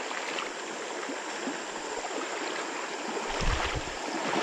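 Creek water pours over a small waterfall, a steady close rushing wash that runs unbroken with no voices.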